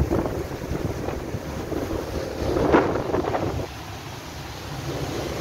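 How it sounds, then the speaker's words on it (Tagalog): Strong wind gusts across the deck of a boat out at sea on a sea trial, a continuous rushing buffet that swells briefly midway before easing, with no talking. "Mahangin siya"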